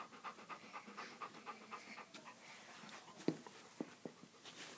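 Hammy the dog pants in quick, soft, rhythmic breaths close by, with a few faint clicks and rustles between them.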